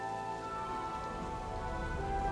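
Rain in the video game Planet Coaster 2, a steady, soft hiss of falling rain that stays even throughout with no voices.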